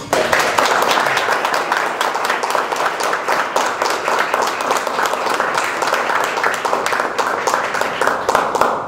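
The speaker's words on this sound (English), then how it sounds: "please join me in a round of applause" Sustained applause from an audience at a Toastmasters club anniversary gathering, dense steady clapping of many hands continuing loudly without pause for the full stretch.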